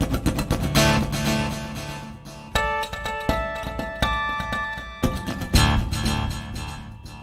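An acoustic guitar plays struck, percussive chords that ring out in repeating echoes, with two delays layered together, one of them a dotted-eighth-note delay. Bright attacks land every second or two, and their tails overlap into a shimmering wash.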